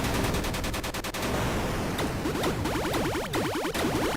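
Rapid gunfire in a retro video game boss fight, aimed at the eyes of the final boss: dense bursts of shots over busy game music and synthetic sweeping effects, loud and continuous with no talking.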